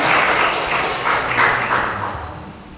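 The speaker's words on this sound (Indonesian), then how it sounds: "Berikan tepuk tangan." A church congregation at a Pentecost Sunday service claps together, a brief burst of dense, roomy applause that fades slightly over its few seconds.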